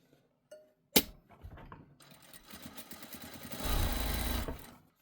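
A sewing machine top stitches a scalloped, gathered dropped-waist skirt, starting after a few soft handling clicks, then running in a steady, close, moderately loud mechanical whir that swells near the end and stops.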